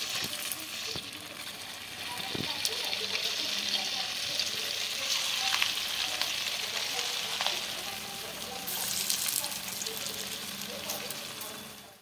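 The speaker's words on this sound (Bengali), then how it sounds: "এবার এগুলো ওপিট ওপিট করে লাল লাল করে ভেজে দিয়েছি" Semolina and potato snacks deep-frying in hot white oil in a kadai, a broad continuous bubbling sizzle with occasional clinks of turning, steady and fairly close.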